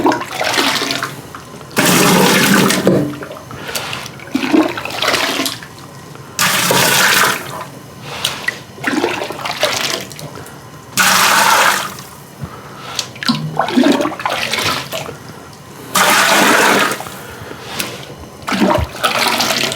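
Hot water at 160 degrees poured by hand over grain for a single malt whiskey mash, heard as several loud rushing bursts of splashing water separated by quieter pauses, with no pump in use.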